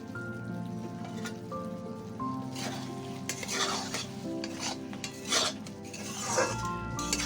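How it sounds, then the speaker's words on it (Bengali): Chilli paneer being stirred in a pan after sugar is added, with soft scraping strokes and light sizzling building in the middle, plus a few clinks of spoon against metal; no talking. "চিনি দিয়ে আর একটু নাড়িয়ে নেব"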